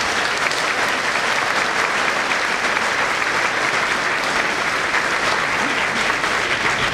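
An audience at a municipal New Year's wishes ceremony for the Dreux urban area applauds newly joined councillors with steady, dense, warm clapping that stays loud and even throughout.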